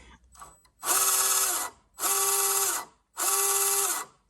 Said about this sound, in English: so it sounds like it's a noisy gearbox